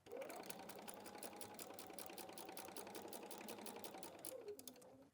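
Sewing machine stitching quilt fabric for a wall hanging, a quiet, rapid and even run of needle clicks that holds steady for several seconds before slowing to a stop.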